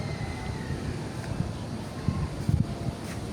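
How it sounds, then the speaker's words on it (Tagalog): Strong typhoon wind roars past a third-floor building, a steady, dense rumble with a few gusty bumps near the end. "Makusog kay hangin."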